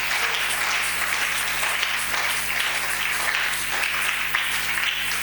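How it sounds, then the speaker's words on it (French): A church congregation applauding loudly and steadily, a dense wash of close clapping from many hands that fills the whole stretch without pause. "Si tu le crois, nous acclamons très fort"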